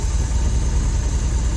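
A Bayliner boat engine fitted with electronic ignition idles steadily, a loud continuous low rumble with a faint high whine above it and no voices.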